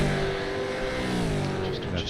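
A race car engine in a racing video game drones steadily and loudly with a rising pitch while closing in to overtake another car, continuous throughout under a faint bit of talk.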